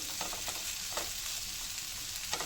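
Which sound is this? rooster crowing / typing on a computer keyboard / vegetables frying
vegetables frying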